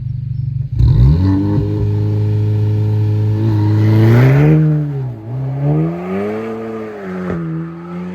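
A Volkswagen Golf 7 GTI Performance with about 300 hp pulls away hard with wheelspin, its engine note climbing steadily in pitch, dipping through a shift and rising again, loud and close with no talk.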